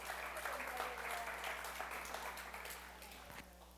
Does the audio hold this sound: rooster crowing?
no